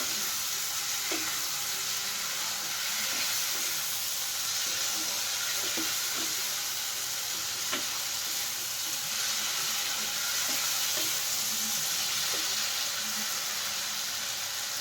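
Ghugni spice mix with potato and tomato frying in a pan, a dense continuous sizzle with scattered light clicks and scrapes of stirring, close and steady, no talking.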